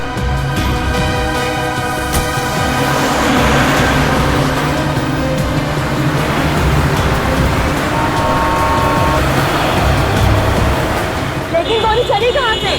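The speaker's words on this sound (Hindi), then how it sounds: "ए ड्राइवर चलो चलो, गाड़ी चलाओ।" A car on a forest road runs with a steady engine rumble and road noise throughout, loud and close, with background music layered over it.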